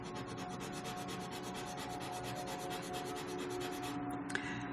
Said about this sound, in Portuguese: Agora vamos fazer o teste da borracha. A gente vai usar aquele lápis borracha da Faber-Castell.